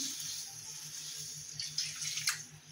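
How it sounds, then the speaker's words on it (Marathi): Water runs and splashes steadily into a bowl, a continuous pouring sound with a low hum underneath and a few brighter splashes toward the end. "4 कप पाणी घालायचा"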